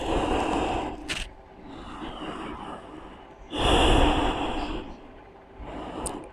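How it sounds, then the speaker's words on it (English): Deep breathing during a slow power yoga session, with two long loud breaths, each drawn in and released, separated by a quieter pause, close to the microphone and with no talking. "Taking some deep breaths."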